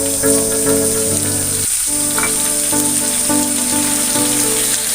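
Chicken sizzles and fries steadily in a hot pan as tomato goes in, a loud continuous crackle with brief stirring scrapes and a short dip where ingredients hit the oil.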